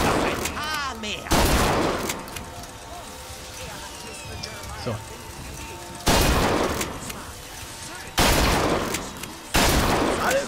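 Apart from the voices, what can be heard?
gunfire from shooting in BioShock Infinite video game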